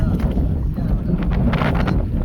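Wind buffets a fishing boat out at sea during shore-seine net fishing, a steady low rumbling roar across the microphone that never lets up.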